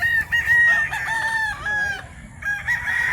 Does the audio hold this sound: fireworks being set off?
no